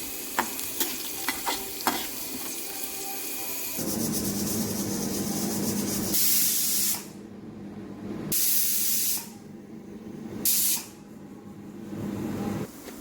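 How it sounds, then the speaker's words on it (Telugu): A pressure cooker vents steam on a home kitchen stove while cooking rava pulihara, giving a loud broadband hiss in several bursts of a second or two, with quieter sizzling and stirring between them and no talk. "సో 3 విజిల్స్ కంప్లీట్ అయిపోయినాయి"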